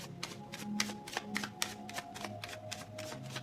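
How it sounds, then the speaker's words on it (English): Tarot cards being shuffled close up, a quick series of crisp riffling snaps and flutters in irregular bursts, fairly quiet, with no voices. "Last shuffle for Leos who have chosen deck number two"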